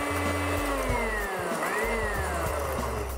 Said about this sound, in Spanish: la paja en estado normal, la cual se muele en una licuadora por 15 minutos.